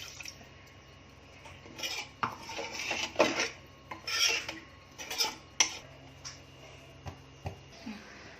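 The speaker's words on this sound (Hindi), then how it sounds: "अब मैं कुकर खोल के देख रही हूँ, अगर बीच हुए हैं तो ठीक है" Metallic clinks and rasping scrapes as a pressure cooker holding cooked cashews is opened and its lid handled, a dozen or so irregular close-up knocks and rattles at moderate loudness with no talking.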